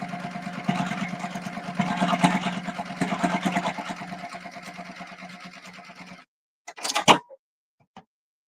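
A sewing machine stitches pink fabric to yellow for a bucket hat, a rapid loud mechanical whir that runs for several seconds, slows and stops, followed by a few short clicks and bursts.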